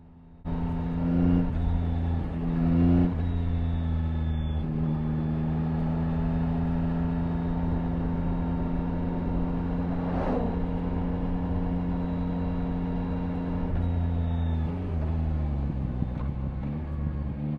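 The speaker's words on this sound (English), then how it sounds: "Really hard on the brakes there and down through those gears using the quick shifter." A motorbike braking hard and dropping down through the gears with a quick shifter: a loud, close engine whose pitch steps abruptly at several quick shifts, holding a sustained tone in between, with no talking.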